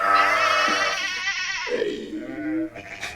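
Sheep bleat loudly and close by, one drawn-out, wavering cry followed by a lower, shorter bleat, with faint background noise.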